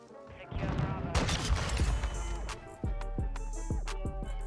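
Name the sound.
rifle gunfire in video game Warzone 2.0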